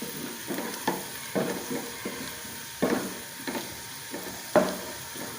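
Onions fry in a pan until light brown, a steady soft sizzle broken by repeated scraping stirs of a spoon against the pan, close up and without talk.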